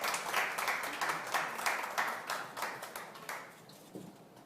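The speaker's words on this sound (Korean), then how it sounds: "박수로 환영해 주십시오." Sparse, rhythmic clapping from a small audience at a political party candidates' vision presentation, greeting a candidate taking the stage; moderately loud bursts that fade toward the end.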